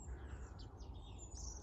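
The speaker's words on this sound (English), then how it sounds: "Those are the bearded tits pinging." Bearded tits giving high pinging calls from reeds at a fen, several faint thin notes close together over a steady low background hum, with no voices.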